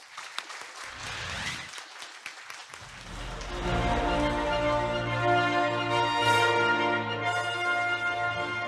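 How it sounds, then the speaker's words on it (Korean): A crowd claps to welcome the opening of KAIST Research Day, a 2023 university research event, with light scattered claps swelling under a loud sustained musical fanfare that rings out over them. "큰 박수로 환영해 주십시오"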